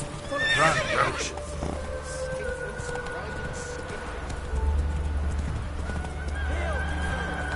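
Roach the horse in The Witcher 3 gallops with close, rhythmic hoofbeats and snorts. A speaker is heard through much of the scene, and a whinny stands out near the start.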